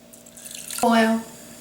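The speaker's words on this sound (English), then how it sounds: "we're going to add a cup and a quarter of cold water, and then we're going to bring it to a boil" Cold water is poured into a cooking pot for sushi rice, a short, close splash and gurgle lasting under half a second after a faint rising hiss.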